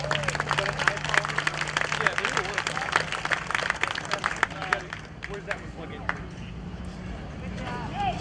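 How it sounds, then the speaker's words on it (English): Round of applause from the audience at the Hastings Sings 2021 singing contest as the first contestant is introduced; dense, steady clapping throughout, with murmuring crowd voices and talk mixed in. "the first person up that I want you to give a nice round of applause to"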